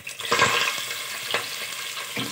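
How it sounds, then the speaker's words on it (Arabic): Hot oil crackling and sizzling in a pan on the stove before pepper paste and garlic go in, a steady close fry with a few sharper pops and stirring clatter, no voices. "انا خليت الزيت حتى سخنات باش كطرطق"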